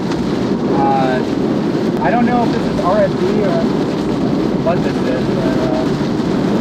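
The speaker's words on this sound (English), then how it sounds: "it's like crazy raining right now" Heavy rain pounds down during a tornado chase storm, a dense, loud, constant roar with wind buffeting the microphone, while someone talks over it and faint chirping tones come through.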